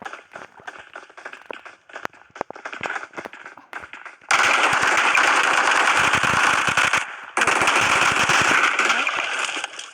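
Gunfire rings out in the PUBG video game: sparse scattered shots at first, then a loud sustained burst of rapid automatic fire with a brief pause before it resumes.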